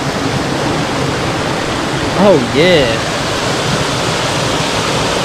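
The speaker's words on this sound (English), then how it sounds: "rapids, little waterfall deal going on in this portage from Ge-be-on-e-quet Lake to Ge-be-on-e-quet Creek" Rapids and a small waterfall on Ge-be-on-e-quet Creek, along a Boundary Waters portage from the lake, make a steady, close rushing roar that fills the whole stretch; someone briefly speaks over it.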